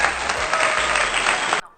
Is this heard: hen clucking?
no